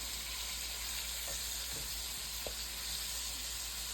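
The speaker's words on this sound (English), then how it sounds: "So right now I'm just sauteing it." Goat meat sautés in a pot for curry goat, a steady faint sizzle under a constant hiss, broken by a few soft stirring scrapes and taps.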